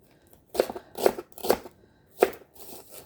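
Squid being cut on a board for adobong pusit, four crisp close slicing chops in an uneven rhythm with short quiet gaps between them.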